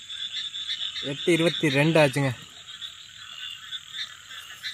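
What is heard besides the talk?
frogs croaking around a boat house at night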